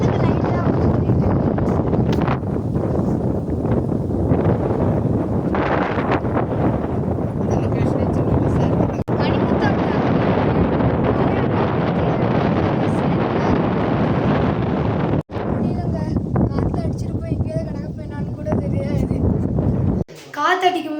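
Wind roars steadily across an outdoor microphone in Manjolai during rain, a loud continuous gusting rush with brief dropouts, and a voice is heard speaking over it.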